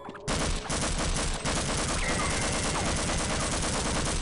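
Sustained automatic gunfire in the shooter game Half-Life Blue Shift, a loud, dense burst of rapid shots that starts abruptly and continues without pause for several seconds.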